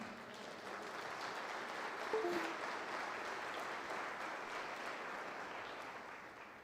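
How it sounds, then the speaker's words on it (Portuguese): A church congregation claps during a Portuguese celebration sermon, a soft, distant and steady patter of many hands that swells briefly and then fades slightly toward the close. "Você tinha que aplaudir agora"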